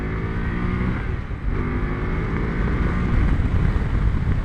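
A BMW F750 GS motorcycle engine pulling hard on a test ride, a steady loud drone with rising tones under heavy wind rush, close up and continuous.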